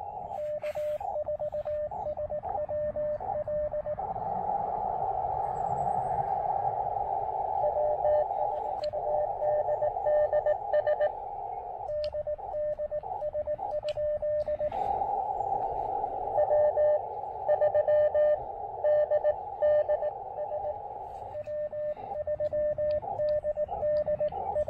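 Morse code sidetone from an Elecraft AX1 radio setup, a steady keyed tone sending a call in rhythmic dits and dahs, loud and close, with brief gaps between characters and faint background hiss.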